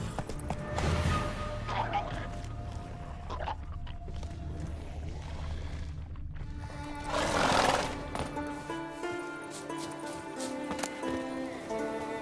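In The Witcher 3: Wild Hunt, a horse whinnies loudly twice amid the clip-clop of hooves, with a rider's voice speaking between the neighs and a soft musical backdrop.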